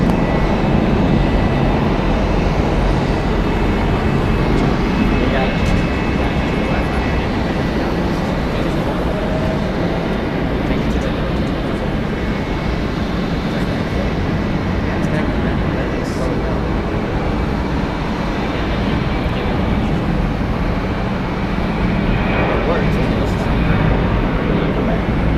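A Southwest Boeing 737 departing Atlanta Hartsfield-Jackson airport, a loud, steady, broadband jet roar that stays constant throughout with no breaks.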